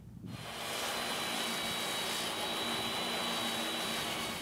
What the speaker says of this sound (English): I'm going to grab a 12-foot piece and run it through the saw.